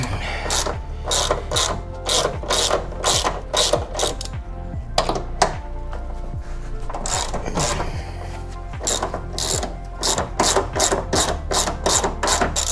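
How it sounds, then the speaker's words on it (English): Rapid ratchet clicking while the top shock bolt is loosened on a Mazda MX-5 Miata NA8 coilover, loud and close in repeated bursts with brief pauses, no voices. "We're going to be loosening this top shock."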